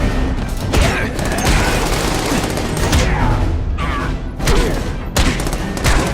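Gunfire in The Amazing Spider-Man 2 video game: bursts of shots and heavy thuds crackle in clusters over a busy, loud action soundscape.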